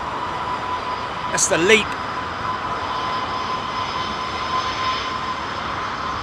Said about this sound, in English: Listen to these Neo engines, man.